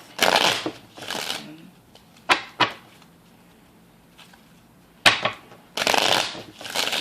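Cards are shuffled in a few quick riffling bursts separated by pauses, close by, with a couple of sharp taps in between.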